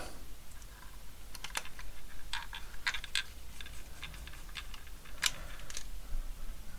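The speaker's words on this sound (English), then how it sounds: "So first we will need to put the screws back." Small screws being driven back into the front plate of a Motorola MB667 baby monitor during a repair, giving a string of light, close clicks and scratchy ticks at irregular intervals, with no talk.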